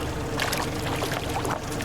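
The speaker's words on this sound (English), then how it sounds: "Look, see them splashing?" Small fish splashing at the water surface while feeding, three or four at a time, a continuous wash of close watery splashing and churning with no speech.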